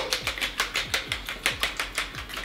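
Milk and eggs whisked together in a bowl for waffle batter, producing a quick, regular series of about a dozen scraping, clinking strokes, close and fairly loud, with no talking.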